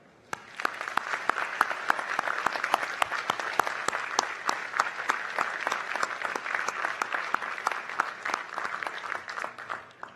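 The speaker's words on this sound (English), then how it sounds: "I hope you'll join me in a big round of applause celebrating his award." Sustained, dense applause from a large crowd at a university commencement ceremony rises quickly and holds steady for several seconds, with many overlapping claps at moderate distance.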